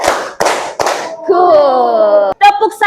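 Classroom of children doing a counted clapping ice-breaker, three sharp loud claps spaced apart, followed by a teacher's voice and brief responses from the children.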